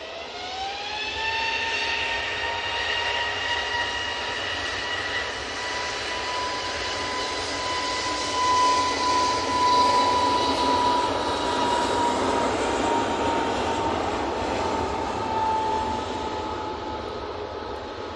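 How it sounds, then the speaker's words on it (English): A Ryanair Boeing 737 MAX 8 on final approach into Manchester, passing over Stockport, gives a loud steady jet roar with a rising engine whine that builds and then slowly fades as it passes. "On finals now, just going over Stockport, we have the Ryanair from Cork that I mentioned before, 737 MAX 8."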